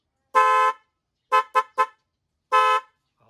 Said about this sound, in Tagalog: ibig sabihin naka-ready na yung busina natin